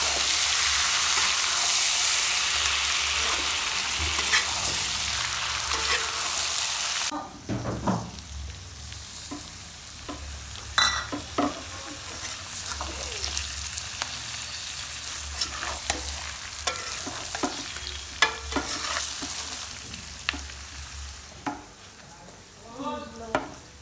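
Rolled pieces of food frying in a pan, a loud dense sizzle at first that drops to a quieter crackle with scattered taps and scrapes of handling.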